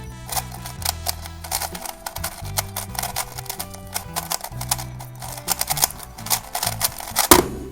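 A new 3x3 Rubik's cube is turned quickly by hand, giving dense rapid clacks and clicks in fast irregular bursts. The sound is close and crisp, with a sharper snap near the end and no speech.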